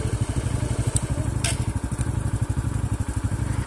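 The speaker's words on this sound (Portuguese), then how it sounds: "Uma motinha pequena assim. Dá pra passar aqui no meio, não dá?" A small motorbike passes over a muddy rural road after rain, its engine putting out a close, uneven, pulsing putter. The beat rises and falls in rapid chugs, with a couple of brief higher-pitched clatters on top.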